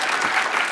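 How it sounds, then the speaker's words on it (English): Brief burst of audience applause at a hacker conference, a dense wash of clapping from a crowd heard for under a second. "That's the most applause there's been all day for adding a 1"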